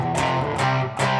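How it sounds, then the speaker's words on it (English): Distorted electric guitar power chords from a song, struck three times in a steady rhythm with each chord ringing briefly, loud and close with no voices. "Power chords."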